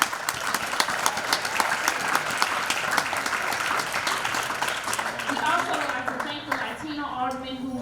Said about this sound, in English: So let's give them a hand clap.